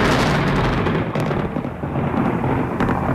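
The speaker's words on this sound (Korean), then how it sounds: "먼저 천둥 소리" Recorded thunder played for a dog during sound socialization training, a loud continuous deep rumble with rolling, crackling texture that stays strong throughout, with no voices.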